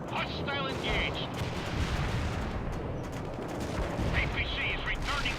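An APC fires in the video game World in Conflict: loud, dense bursts of gunfire and booming battle noise, with short radio-like voice chatter cutting in at the start and end.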